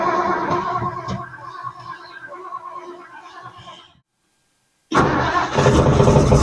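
A cold Ford Edsel car engine catches and runs roughly, then cuts out into silence before restarting loudly and settling into a steady close running roar.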